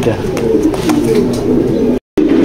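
Pigeons at a loft coo in a low, continuous throaty rumble close by as a female is released, with a brief dropout of sound near the end.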